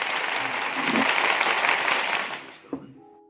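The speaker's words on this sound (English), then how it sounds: "give them a round of applause for having them come through" A studio audience applauds guests arriving on a reaction show, a broad steady clap that swells then fades out, followed by a single thump and a brief voice.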